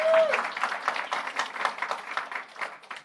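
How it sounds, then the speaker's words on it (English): A room full of conference audience members applaud with steady, dense clapping that carries on throughout, fairly loud and close, with no talking over it. "This is the part where you applaud."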